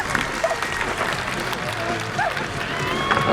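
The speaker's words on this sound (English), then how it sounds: "let's have a round of applause for the team of Passing Wind." Outdoor crowd at a horseboarding competition at Sandringham claps steadily, a moderate scattered applause with a few murmured voices and faint cheers mixed in.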